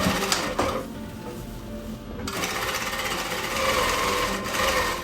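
Sewing machine stitching along the top edge of cotton bloomers hums in a loud, close, rapid whir, pausing briefly before a steady continuous run.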